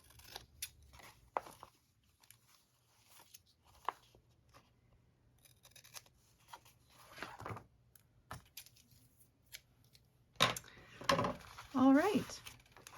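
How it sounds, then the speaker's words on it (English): Scissors snipping the paper edge of a handmade journal pouch, a series of short crisp cuts spread out with quiet handling noises between, and a voice speaking briefly near the end. "So taking my scissors and cutting the edge here."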